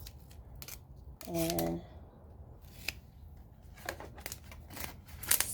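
Real duct tape pulled off the roll and torn to seal winter-sowing containers in a garden: one loud rasping rip, then scattered close clicks and crinkles, with a brief spoken word.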